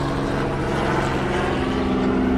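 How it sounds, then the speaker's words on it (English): Helicopter passing over a resort area on International Drive in Orlando, a steady rotor and engine drone with a low tonal hum, held at constant loudness throughout. "A helicopter."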